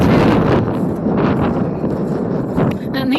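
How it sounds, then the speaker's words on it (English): Strong gusts of wind buffet the microphone outdoors by a duck pen, a loud continuous roar that swells and dips. "It's a very windy day"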